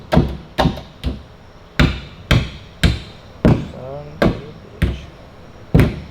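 A new framing hammer strikes wood about ten times in a steady, loud, close series of sharp thwacks, each blow ringing briefly before the next.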